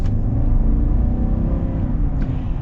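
The 6.2-litre V8 of a 2022 GMC Sierra 1500 AT4 pickup accelerates with a steady, deep rumble, heard from inside the cab and unbroken throughout.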